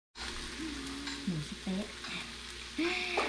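Pork satay grilling with a steady, close sizzle and crackle, with faint voices rising over it now and then.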